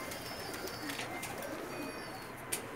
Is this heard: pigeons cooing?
yes